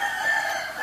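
Young chickens crow in a coop at Uncle Tư Gương's farm, a continuous, fairly close chorus of thin crowing calls overlapping one another.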